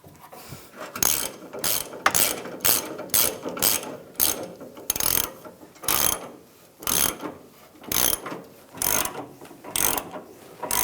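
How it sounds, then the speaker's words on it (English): A torque wrench ratchets on the fuel pump strap nuts of a Ram 1500 pickup with a 3.6L engine, close repeated bursts of rapid clicking in a steady rhythm, about a dozen strokes. "Now we'll torque these to 30 foot-pounds."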